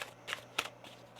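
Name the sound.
tarot cards being shuffled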